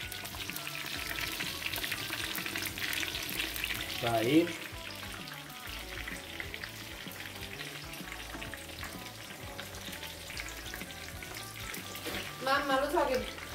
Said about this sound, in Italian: E sentite come sfrigolia